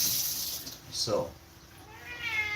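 A single short cat meow rises clearly in the middle of a quiet room, close to the listener, with faint background noise around it.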